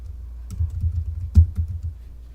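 Keys tapped on a computer keyboard while entering a password, a short run of soft close clicks with one firmer press partway through.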